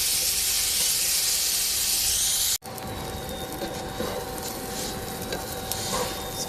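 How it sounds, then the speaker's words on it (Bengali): Rice frying dry in a home kitchen pan, a steady hiss and crackle that cuts out abruptly partway, then resumes as a lower, rougher sizzle with faint scraping. "চাল দিয়ে এইভাবে সুন্দর মতো চালগুলো ভাজি নিব।"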